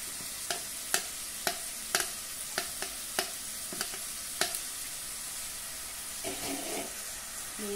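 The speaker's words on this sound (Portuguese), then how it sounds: "Agora eu venho com a carne triturada, jogo aqui dentro." Shredded dried beef sautéing in a pan, a continuous sizzle punctuated by a regular series of sharp spoon-on-pan taps while stirring, close and clear with no speech.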